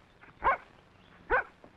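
A dog gives two short, sharp barks close by, with a pause between them, in an old Western setting.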